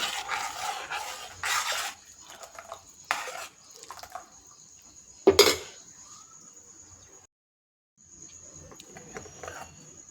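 A spoon stirs amaranth flour into a fasting kadhi in a metal pot, giving a few bursts of scraping and clinking with one sharp knock. A short quiet gap follows before faint background noise returns.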